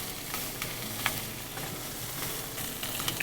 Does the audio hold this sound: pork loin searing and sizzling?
yes